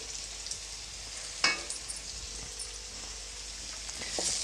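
Capsicum frying in a pan with a spoonful of garam masala, low-oil cooking for capsicum fried rice; a steady, soft sizzle runs throughout, broken by one sharp clink of a stirring utensil.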